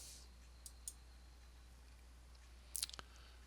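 Computer mouse clicks in a quiet room, a few faint isolated ticks early on, then a sharper cluster of clicks near the end, all soft against low background hum.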